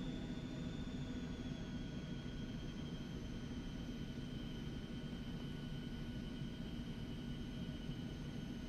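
Simulated aircraft engine in the X-Plane 11 flight game before takeoff on the runway, a steady faint whine and hum with a high tone, constant throughout and no talk.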